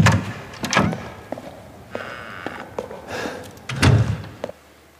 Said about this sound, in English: let's listen to this door sound